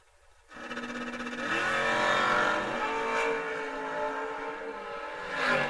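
Drag racing cars at a memorial race, a first-generation Camaro Roadster and a COPO Camaro, launch with a loud, sustained engine roar that builds and holds, then swells again near the end.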